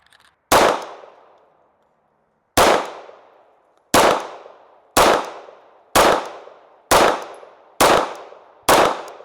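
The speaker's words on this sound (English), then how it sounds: "We'll shoot this, string of fire, 8 rounds, see where everything ends up." Eight sharp pistol shots from a Radom VIS 35, fired as a string: a longer pause after the first, then seven evenly spaced cracks about a second apart, each loud and close with a short ringing decay.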